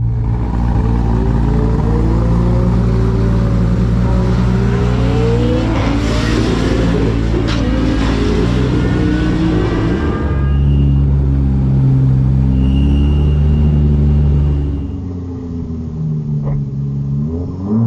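A Tesla Model S Plaid runs a roll race against a cop car, with a deep, loud rumble building as the cars accelerate hard, engine pitch sweeping up and changing, then the noise easing off toward the end.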